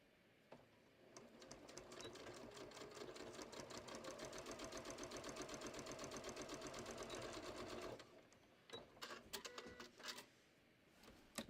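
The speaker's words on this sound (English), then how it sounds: "I'm just gonna sew straight down" A sewing machine stitches straight down striped cushion cover fabric in a fast, rhythmic mechanical chatter for several seconds, then stops and leaves scattered clicks and handling noises.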